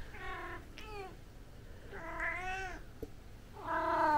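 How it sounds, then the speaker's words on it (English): A pet cat meows indoors three times in drawn-out, wavering cries, close and clear, with short pauses between calls and no talk. "And that's my cat."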